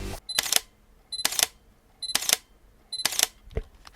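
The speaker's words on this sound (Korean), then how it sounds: "일단 셔터음을 들어보시죠." A Sony A7 III camera fires its shutter four times at even intervals, each a crisp close mechanical click-clack with a faint electronic beep before it, alone in a quiet room.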